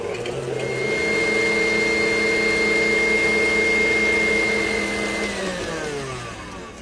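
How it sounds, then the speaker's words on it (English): An electric mixer whirs on high, beating egg yolks and sugar with a steady loud motor drone that holds for several seconds, then winds down in pitch as it switches off. "we're going to beat those on high for several minutes until the egg yolks get light and fluffy"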